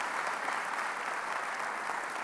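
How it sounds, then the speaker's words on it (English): An audience applauds HSBC CEO Abdulfattah Sharaf at an indoor talk event, a steady, dense wash of clapping held at even loudness for the whole stretch, with no voices over it. "would you please join me in giving Abdulfattah a warm round of applause"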